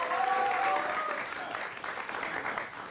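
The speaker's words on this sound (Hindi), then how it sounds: "हम लोगों की मेहनत के लिए तालियां बजा दीजिए" Audience applause at a poetry gathering, a steady sustained clatter of clapping that fades slightly toward the end, with faint voices and a brief tone mixed in early.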